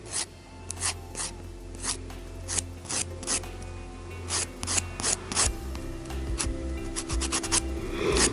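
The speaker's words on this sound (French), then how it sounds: "je vais commencer à matifier la plaque" A 180-grit nail file buffs a fingernail plate to a matte finish during an American-style nail application, giving a run of quick close dry rasping strokes with short pauses, no talking.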